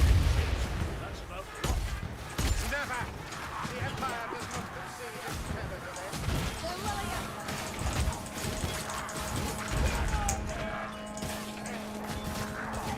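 Bombs thrown and exploding during a Dark Elves battle in Total War: Warhammer II, heard as scattered thuds and blasts among busy battle noise, with people talking over them throughout.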